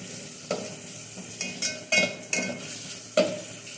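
A ground paste of garlic, ginger, salt, pepper, cloves and cardamom being stirred in a hot frying pan, with soft sizzling under a handful of distinct spatula scrapes and knocks at irregular intervals, close and alone.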